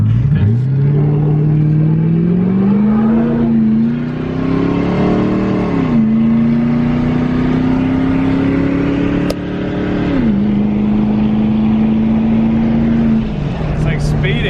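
Gambler 500 race car driving fast, its engine holding a steady loud drone with pitch rising and dipping through two gear shifts, close and continuous with a voice heard over it.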